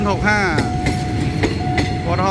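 An empty Alstom 4301 locomotive hauling train 1012 toward Bangkok passes Yommarat on the State Railway of Thailand, a loud close rumble with rhythmic wheel clicks, steady tones and squeals, and a voice heard briefly.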